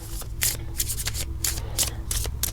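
Tarot cards being shuffled by hand in quick repeated riffles, crisp close bursts of card flutter over a low background hum.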